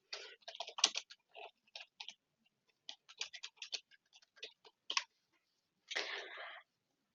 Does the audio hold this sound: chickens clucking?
no